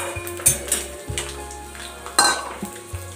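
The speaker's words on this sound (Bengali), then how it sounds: "এখানে বাদামটাকে দেখো ভাজা হয়ে গেছে, তুলে নিলাম" Fried peanuts scooped from a pan, metal spoon scraping and clinking against the pan several times over a low sizzle of hot oil, close up with no talking.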